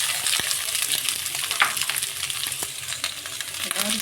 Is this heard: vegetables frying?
yes